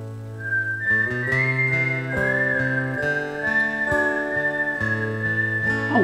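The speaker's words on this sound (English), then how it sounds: "Oh wow, I didn't know he could whistle." A person whistles a sustained, wavering melody over steady backing music, the whistle clear and prominent throughout.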